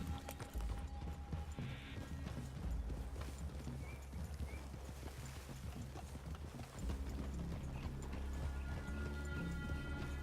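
Horse hooves clip-clop steadily through Red Dead Redemption 2, several horses moving together at a walk under a low ambient bed, with a faint whinny and no voices.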